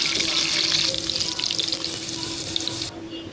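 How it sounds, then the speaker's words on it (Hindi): Cumin seeds and chopped green chilies sizzle in hot oil in a frying pan for a daal tadka, a steady loud hiss and crackle that cuts off abruptly near the end. "मैंने एक फ्राई पैन लिया, उसमें मैं ज़ीरा डाल रही हूँ आधा चम्मच।"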